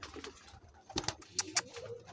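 Soft pigeon coos and brief wingbeat-like flutters inside a pigeon loft, fairly close and quiet, with a low ambient hum underneath.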